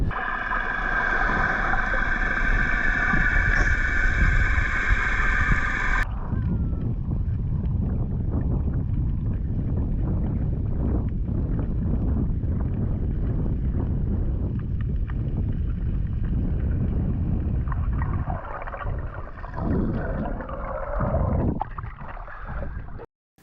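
Wind buffets a sailboat at anchor, with a loud gusty rush against the microphone at first, then a rough, rumbling wash of wind and water that rolls on steadily before easing off near the end.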